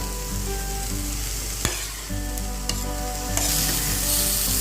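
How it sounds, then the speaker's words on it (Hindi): Fried okra is stirred into onion masala in a pan, with a steady sizzle and a few sharp spatula scrapes and clicks against the metal, no voices. "अभी मैं इसमें डाल दूंगी मैंने जो फ्राई किया था भिंडी को। और इसके साथ अच्छे से मिलाऊंगी पहले।"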